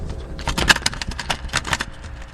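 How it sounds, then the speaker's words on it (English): Cassette tape deck eject mechanism opening with a terrible sound: a rapid series of close, sharp clattering clicks and rattles over a couple of seconds, alone without talk. "Does your cassette mechanism make a terrible sound like this when you open it?"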